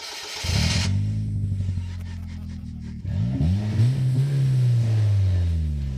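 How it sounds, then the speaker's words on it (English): Three-wheeled car engine starting and settling into a loud idle with little soundproofing, its deep steady rumble close up and revving slightly as it runs on. "It's a loud vehicle with little soundproofing."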